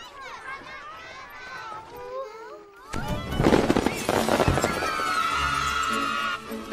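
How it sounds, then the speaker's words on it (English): Fireworks in a scene from The Lord of the Rings: The Fellowship of the Ring burst in suddenly partway through, a loud crackling, popping blast that keeps going over a busy soundtrack while people talk throughout. "Fireworks."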